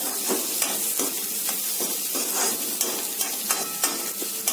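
Carrot pieces, green peas and potatoes frying with onions for vegetable roll filling, stirred in a pan with repeated scraping strokes over a soft, steady sizzle.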